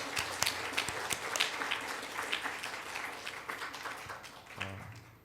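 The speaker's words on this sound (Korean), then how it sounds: "우리 뜨겁게 박수로서 환영하도록 하겠습니다" A church congregation at a Sunday morning service claps to welcome Vietnamese seminary students, a fairly quiet spread of hand claps with a few sharper close ones, easing off near the end.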